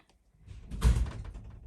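A drawer slides open in a single short, soft scraping rumble that swells and fades within about a second, with no talking.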